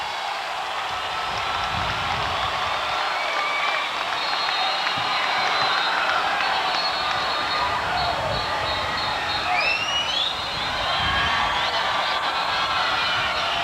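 A stadium crowd at a 1991 Chicago Bulls championship celebration roars and woofs in a dense, steady wash of cheering that fills the whole stretch, with distant voices mixed into the din.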